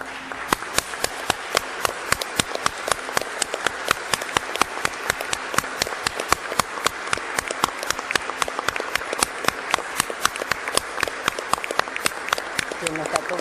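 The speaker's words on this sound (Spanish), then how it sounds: "Les pido un minuto de aplauso para estas grandes mujeres." Sustained applause from a small gathering at a tribute to women, with crisp individual claps repeating in a dense, even rhythm, close and continuous over the whole span.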